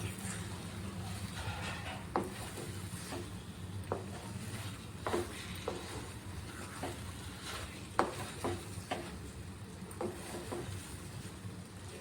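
Beetroot halwa being stirred in a pan on the stove, with a soft steady sizzle and repeated scraping clicks of the spoon against the pan at an uneven rhythm, close by and without talk.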